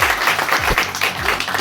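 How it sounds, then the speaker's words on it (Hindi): A group claps hands steadily and continuously in a brisk, even rhythm during an outing at an organic farm, close and fairly loud throughout with little talk. "ताली बजती रहनी चाहिए"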